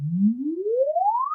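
A single smooth sine sweep test tone, played through the top front left speaker during a MultEQ-X calibration with REW, glides upward from a low hum to a high pitch over about a second and a half.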